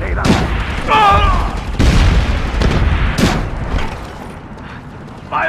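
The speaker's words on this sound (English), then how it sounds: "Fire in the hole. Grenade out." Grenade explosions and gunfire in the SOCOM 4 video game come as several loud booms and sharp bursts in quick succession, with a player's voice heard between the blasts.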